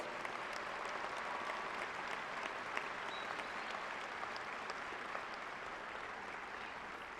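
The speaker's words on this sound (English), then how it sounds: "Let's give them a big round of applause." Steady, sustained applause from a large audience at a Southern Illinois University Carbondale fall 2021 commencement, honoring international students; dense, even clapping holds throughout without a break.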